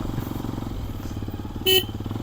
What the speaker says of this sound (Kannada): ಕೆಲ್ಸುತ್ತಲ್ಲ, ಹಾರನ್ನು